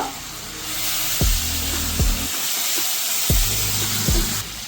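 Green chillies stirred into chicken in a pan, a continuous hiss of frying with four or five dull, low knocks from the stirring spaced roughly a second apart.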